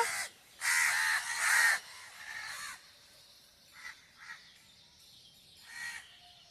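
Several loud crow caws in a quick burst, then scattered fainter caws at a distance with quiet gaps between them.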